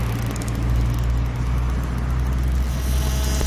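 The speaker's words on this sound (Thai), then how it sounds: "ทำให้เครื่องกระตุกสั่นนะครับชัดเจนนะครับ ในนิสสันอเมร่านะครับผม" A Nissan Almera engine runs unevenly with the second ignition coil removed, misfiring and shaking: a steady, heavy low drone that stays close and loud throughout, with no voices.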